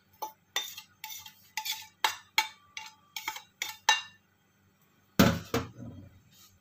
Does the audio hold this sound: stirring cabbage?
yes